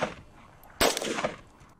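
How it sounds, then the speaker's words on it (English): Bullet impact test on an electric solid propellant, with a single sharp, loud crack of a gunshot partway through, trailing into a short decaying echo over quiet background. "And a bullet impact test was conducted in this video."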